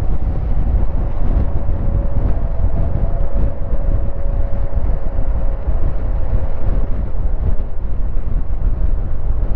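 A Honda Transalp 750 motorcycle rolls on in fifth gear, a loud, steady engine drone buried under heavy wind rush across the microphone.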